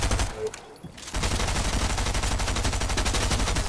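Dense, rapid gunfire from a Fortnite battle royale match, loud bursts that build into a sustained fusillade after a brief lull, with no voices over it.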